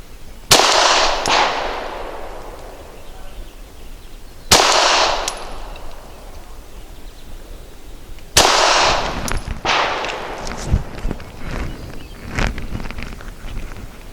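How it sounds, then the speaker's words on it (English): Three loud, close handgun shots from a Canik TP9 Elite Combat firing Remington Ultimate Defense 147-grain brass-jacketed hollow points, spaced several seconds apart, each with quick follow-up cracks and echoes, over outdoor wind noise. "I'm going to be shooting the Remington Ultimate Defense full-size handgun brass jacketed hollow point bullet for maximum stopping power"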